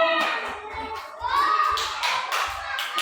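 Children in a classroom clap their hands in a few short rhythmic bursts, close and light, while an adult and children talk over the claps.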